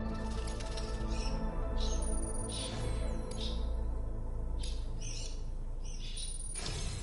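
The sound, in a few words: birds squawking in a video game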